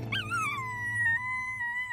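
A cartoon siren wail slides up then holds steady, with a dog-like howling quality over a low background hum.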